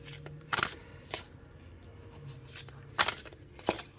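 Tarot cards are shuffled by hand in short crisp riffling bursts, four quick flurries spread across a few seconds against quiet room tone, close to the listener.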